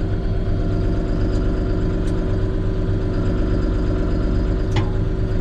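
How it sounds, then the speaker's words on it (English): A John Deere 5075M tractor's diesel engine runs at a steady idle, a loud, close, continuous low rumble with a faint clink or two on top and no talking. "it's pretty hard to run the camera and run the tractor at the same time"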